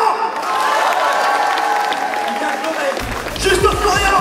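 Audience applause at a YouTubers' comedy night show, a dense broadband clapping wash with crowd noise holding steady throughout, slightly swelling near the end.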